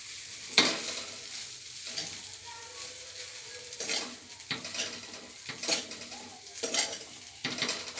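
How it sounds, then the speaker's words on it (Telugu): Spatula scraping and stirring rice with carrot, cabbage and eggs in a frying pan, a steady sizzle under repeated sharp metallic scrapes that recur every second or so, close and fairly loud. "రైస్ వేసేసిన తర్వాత మిక్స్ చేసుకోవాలి."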